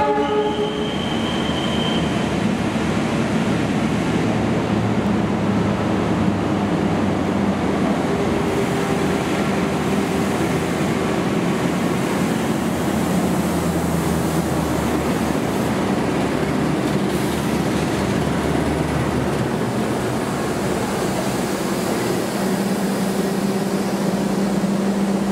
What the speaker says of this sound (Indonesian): kereta api Argo Cirebon 27 dari stasiun Tegal dipersiapkan untuk dilayani lewat jalur 2 ini